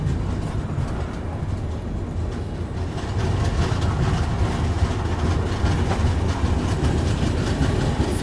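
The Satyagraha Express pulls out of Chanpatia railway station, its wheels rumbling steadily on the rails in a loud, continuous low roar that grows slightly heavier as it gains speed.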